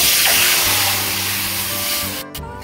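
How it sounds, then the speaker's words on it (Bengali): A loud, steady hiss and sizzle of water hitting a hot pan of fried spices, continuous and near, easing slightly before a brief break near the end. "কড়ার মধ্যে আমি জল দেব।"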